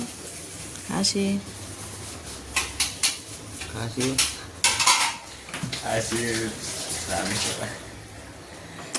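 Metal pots and dishes clatter and scrape in irregular bursts, with water splashing and a voice talking nearby.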